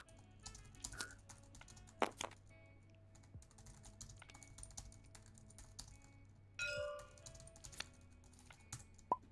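Someone types a chat message on a computer keyboard, scattered bursts of soft key clicks with irregular pauses, close and quiet over a low steady hum.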